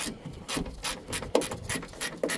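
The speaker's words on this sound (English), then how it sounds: "So 10mm on a small ratchet." A small 10mm ratchet works a door strap bolt on a Toyota Yaris MK1, giving soft rasping clicks and scraping turns at close range with a couple of sharper ticks, no talk over it.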